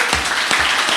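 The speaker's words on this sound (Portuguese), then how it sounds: "Vamos dar uma gostosa salva de palmas para Jesus Cristo." A church congregation claps together in a dense burst of applause, close and loud, with some rhythmic peaks across a single second.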